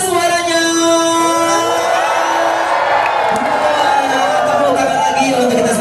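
A loud crowd at the SeaWorld Ancol shark show cheers, whoops and shouts together in a sustained roar, with children's high voices rising above the din.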